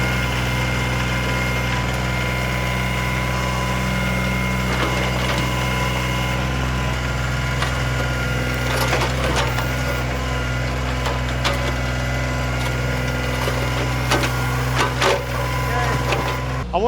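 A small Kioti tractor's backhoe digs out a tree stump, its engine droning steadily at idle while wood cracks and roots snap in sharp bursts close by.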